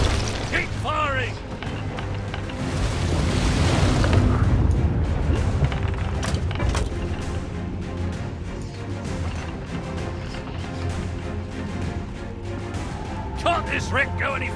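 Ship cannons firing in the pirate game Sea of Thieves: heavy booms and crashes roll over creaking ship noise, loudest early on, with voices calling out over the action.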